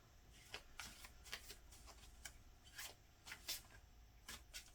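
Tarot cards being laid out for a reading, with repeated soft slaps and sliding swishes of cards on a surface, quiet and close, spaced irregularly over several seconds with no talking.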